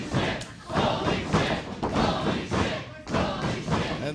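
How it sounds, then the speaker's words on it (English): Arena crowd at a live wrestling match in Florence, Alabama roars and chants in loud sustained waves, punctuated by thuds, with no clear talk over it. "crowd is letting the competitors know what they want to see"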